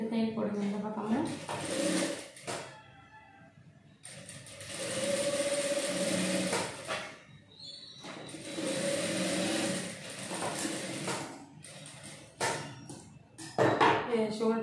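A sewing machine stitches a blouse shoulder seam in several close, clattering bursts of a few seconds each, separated by short pauses in which a voice speaks.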